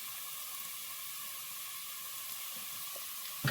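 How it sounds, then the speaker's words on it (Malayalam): Garam masala and turmeric powder sautéing in a pan for biryani, a soft continuous hiss of oil sizzling, faint and steady, ending in a short clatter. "ഇനി ഈ പൊടികളുടെ പച്ചമണം വരണ വരെ വഴറ്റും."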